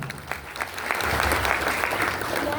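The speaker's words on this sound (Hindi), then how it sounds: "जोरदार ताली बजाएं।" Applause from an audience at an award ceremony for business leaders, steady clapping that swells after the first second and holds at an even level.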